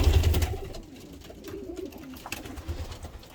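Pigeons coo softly inside a coop at night, a young bird among them; the murmuring calls are close and steady, with a louder burst of low cooing at the start.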